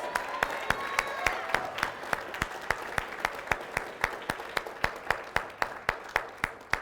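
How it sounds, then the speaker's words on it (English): An audience at a recruiting training session gives a round of applause for a presenter, clapping in a steady, regular rhythm of sharp claps that carries on throughout. "Can we give Julian Doan a big round of applause?"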